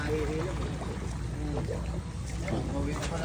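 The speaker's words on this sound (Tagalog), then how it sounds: "gumanda na yung agos ng tubig" Floodwater rushes behind a house in a steady, full flow, with people talking over the noise of the water.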